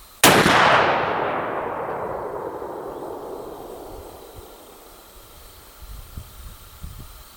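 Tennessee Poor Boy .50 caliber rifle fires a single loud, sharp blast whose hissing roar fades slowly over several seconds, followed by faint outdoor background noise.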